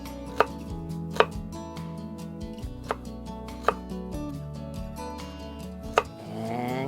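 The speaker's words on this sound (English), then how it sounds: "we'll just go ahead and cut those into smaller pieces" A knife chops shallots into smaller pieces on a cutting board, giving about six sharp, separate knocks at an irregular pace against a steady low background hum. There is no talk.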